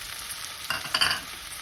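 A short burst of scraping and stirring of a spice tempering in a pan for lemon vermicelli, over a soft sizzle, with two brief louder strokes, no voices.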